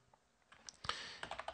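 Quick, close keystrokes on a computer keyboard, a short burst of crisp clicks typed at an even pace in a quiet room.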